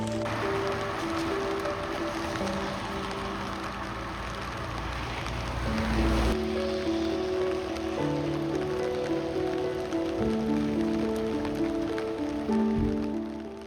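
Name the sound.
heavy rain falling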